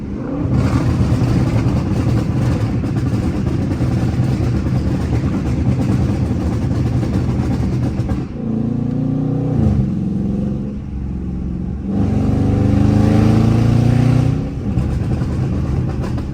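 Burble-tuned Dodge Charger RT on a city drive, its exhaust rumbling loudly and continuously up close, with heavier revving bursts and crackling burbles as the throttle opens and lifts.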